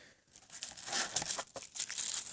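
Crisp crinkling and tearing of kraft paper being unwrapped from a small clamp, loud and close, with bursts of rustling over a couple of seconds.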